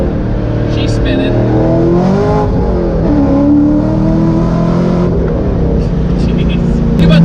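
A supercharged Corvette C5 Z06 revs hard as it spins on a frontage road, the engine note loud and steady and rising in pitch throughout, with voices talking over it.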